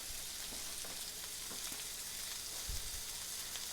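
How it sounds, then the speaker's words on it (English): Scallops searing on their first side in a hot pan give a steady, even sizzle, with a few faint low knocks late on and no talking. "while our scallops are searing on their first side"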